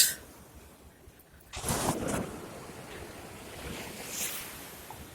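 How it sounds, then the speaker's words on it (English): Waves rolling onto a sea beach, a continuous wash of surf that swells into a louder crash partway through, with wind rumbling against the microphone and no talking. "We are at the sea beach."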